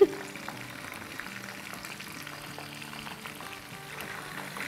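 Chicken frying in hot oil for highway-style chicken tikka karahi, a steady close crackling sizzle with occasional stirring clatter, continuous throughout with no speech.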